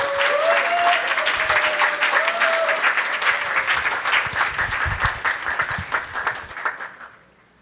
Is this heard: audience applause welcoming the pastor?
yes